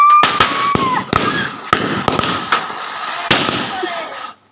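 Diwali firecracker bombs bursting one after another in sharp, loud bangs with short gaps, a whistling rise at the start and people's voices faintly in the background.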